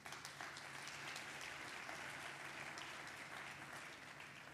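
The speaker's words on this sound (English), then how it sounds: "I'd like to hear a round of applause for Anmal." Audience applause at a speaking event, a dense wash of many hands clapping steadily, heard at a distance and fairly faint throughout.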